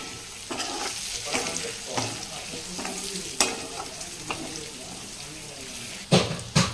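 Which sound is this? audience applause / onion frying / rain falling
onion frying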